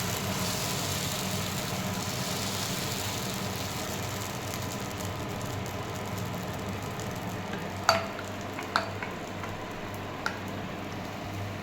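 Masala dosa batter cooks on an oiled frying pan with a steady low sizzle under a faint background hum, broken near the end by a few sharp utensil taps.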